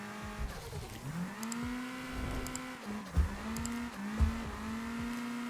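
Race car engine in an Assetto Corsa replay, droning steadily and rising and falling with gear changes, with a few sharp low thumps and brief tire squeals, close and continuous.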